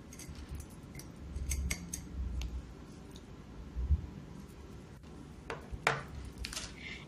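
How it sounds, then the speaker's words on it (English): Scissors snip through excess beads on a Dollar Tree glued-bead vase chandelier craft, a series of quiet crisp cuts with faint clicking in between. "I then cut the excess beads that I did not want on there"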